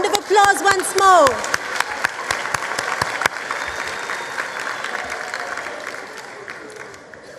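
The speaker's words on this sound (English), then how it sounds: "A round of applause once more." Applause from a crowd at a matric results announcement, steady and moderately loud, with a voice speaking over the opening seconds before the clapping carries on alone and slowly fades.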